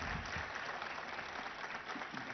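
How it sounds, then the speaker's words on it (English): A crowd at an event at ICICI Bank Towers in Hyderabad gives a round of applause, continuous and fairly even clapping filling the room without speech. "So I think they deserve a big round of applause first."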